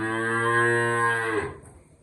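A single long, loud buffalo moo close by, rich and droning, fading out abruptly near the end.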